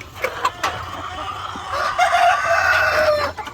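White Leghorn hens and Rhode Island Red crosses cluck in a flock, short calls at first, then a denser, steadier run of clucking and crowing-like cries, close and clear.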